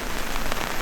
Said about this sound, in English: The rain comes and goes